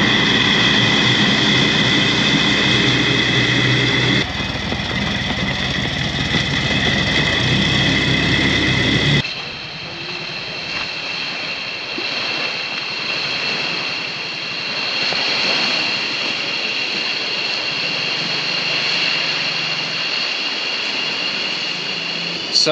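A tuk-tuk on Pulau Weh in Sumatra, Indonesia, runs in wet weather with a loud, close engine drone throughout, and its tone shifts partway through the ride.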